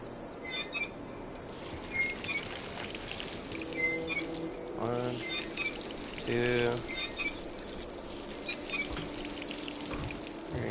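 Faucet water pouring and trickling in the video game Dishonored, soft running water repeated in short bursts under a man counting aloud and talking.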